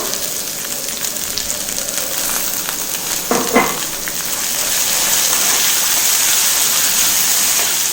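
Crushed garlic and two large chopped onions fry in a pan for capsicum poriyal, making a constant close sizzle with a brief clatter partway through, after which the hiss swells louder and stays steady.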